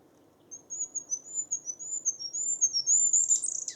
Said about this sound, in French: Là, le roitelet huppé.